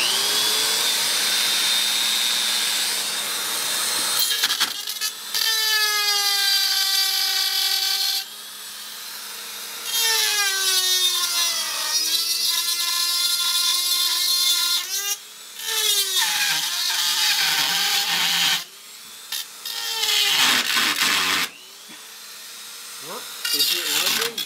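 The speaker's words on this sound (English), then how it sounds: "This is a milling bit." A rotary tool with a milling bit cuts into a Russian gas mask filter in several loud, close bursts, its whine rising and falling in pitch as it bites and spins down between passes.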